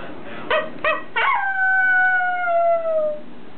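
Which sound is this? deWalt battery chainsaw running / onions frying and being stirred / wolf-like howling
wolf-like howling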